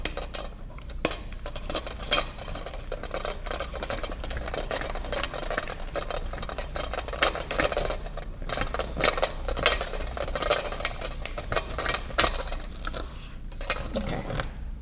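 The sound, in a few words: mixing sugar skull mixture by hand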